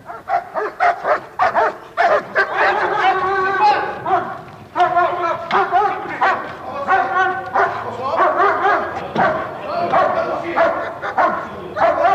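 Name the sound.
police dog barking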